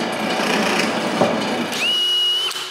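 A drill bores into a plywood plate, a close, loud grinding rasp that gives way to a steady high whine as the bit spins free, then winds down.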